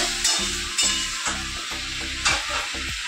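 Vegetable curry stirred and frying in a pan on a home kitchen stove, a steady sizzle broken by several scraping stirs, close and fairly loud with no voices.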